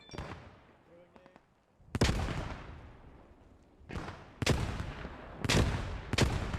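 Grenade blasts in the Post Scriptum WWII shooter during a British squad's push on German-held buildings: several sharp, loud bursts following one another, with faint gunfire and low background noise between them.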